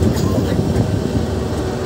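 Passenger train rumbling as it slows into the small platform at Gendaria station, a steady low clatter of carriages running throughout at close range, with no talk.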